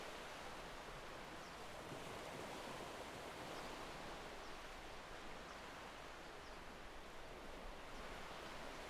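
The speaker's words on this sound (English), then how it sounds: "each wave rushes back into the ocean abyss" Ocean waves wash continuously onto a beach as a soft, steady surf hiss with no distinct breaks, quiet and distant, with no voices.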